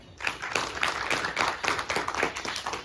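Audience applause at a book release event, dense rapid clapping from a room full of people, steady and fairly close, without speech over it.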